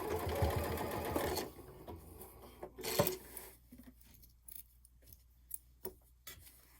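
A sewing machine stitches a fabric phone case bag, running in a fast burst and then a few short stuttering runs, with light clicks and rattles between them.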